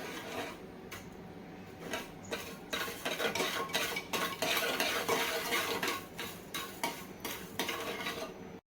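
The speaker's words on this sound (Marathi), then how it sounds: "त्यानंतर घालते कॉफी पावडर त्यानंतर कोको पावडर छान प्रकारे मिक्स करून घ्यायचं आहे" A spoon stirs coffee powder and cocoa powder together for homemade hot chocolate, scraping and clinking steadily against the vessel for several seconds with no talking.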